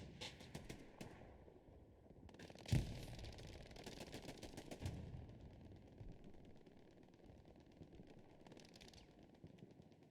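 MG42 machine gun fire in the World War II shooter game Hell Let Loose, rapid ripping bursts of automatic fire, some nearby and others more distant, with one heavy thump amid continuous battle noise.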